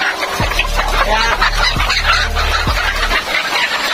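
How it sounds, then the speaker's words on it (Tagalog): Chickens on a farm cluck and chatter in a dense, continuous flock, close and fairly loud, with low thumps and rustling beneath. "Ito yung mga manok natin dito."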